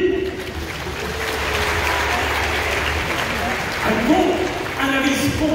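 Audience at a Gauls versus Romans show breaks into dense, sustained applause with crowd noise, holding steady throughout and swelling slightly near the end, while a voice speaks over it.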